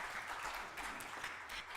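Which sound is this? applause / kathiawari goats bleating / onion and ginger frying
applause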